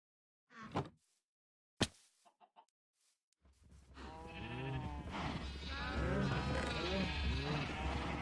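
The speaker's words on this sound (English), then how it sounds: "Oh, it's a sheep." A sheep in the Minecraft video game bleats in a few short calls at the start, followed by a dense layer of overlapping farm animal calls that swells and carries through to the end.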